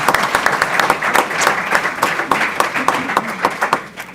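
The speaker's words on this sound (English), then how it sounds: "So may we give our Board of Education a round of applause," An audience gives a round of applause for a school district Board of Education at a board meeting, steady dense clapping from the room that continues throughout without speech.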